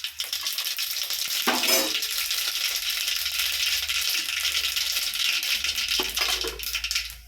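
Mustard seeds dropped into about three spoonfuls of hot oil in a pan, giving a continuous dense crackling sizzle with brief louder bursts of spattering.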